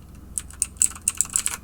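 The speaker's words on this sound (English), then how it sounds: "so I can go ahead and insert stuff like" Rapid keystrokes on a computer keyboard while entering text in a text editor, a quick irregular run of close, crisp clicks heard alone.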